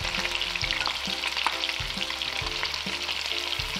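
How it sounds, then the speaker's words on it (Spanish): Margarine sizzles as it melts in a frying pan for stuffed beef rolls, giving a steady close crackle with a few low knocks, as if the pan is being moved, and no voices. "Y aquí tengo las 2 cucharaditas de margarina. La vamos a estar poniendo aquí en el sartén."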